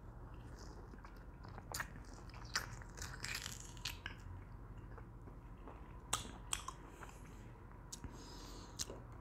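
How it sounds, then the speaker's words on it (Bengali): Someone bites and chews a malta orange close to the microphone, with repeated soft crunchy, juicy bites and smacking at an irregular pace over a quiet background; no talking. "দেখতেছেন আমি খাচ্ছি"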